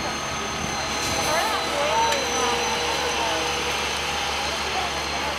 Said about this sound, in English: It sounds a lot different than a typical engine.